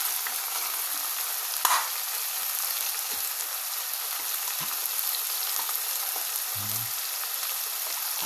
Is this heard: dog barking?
no